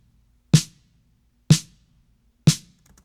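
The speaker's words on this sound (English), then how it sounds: "So this is just kind of spreading the snare out a little bit." Three evenly spaced snare drum hits in Logic Pro, each a sharp crack with a short decay, spread wider across the stereo field by a Haas-effect delay, with silence between strikes.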